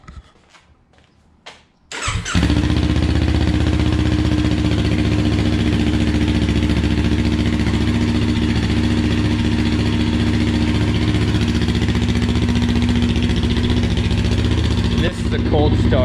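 A Kawasaki Ninja 400 with a modified exhaust and DB killer baffle cold-starts after a short quiet moment, cranking briefly, then catching into a loud, steady close-up idle that holds and dips slightly near the end.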